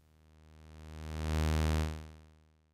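A pure sine-wave tone, volume shaped by an exponential function: it swells steadily to a peak around the middle, then fades away exponentially, steady in pitch with a faint hum beneath and no other sounds.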